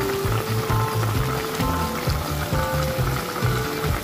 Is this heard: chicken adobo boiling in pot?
yes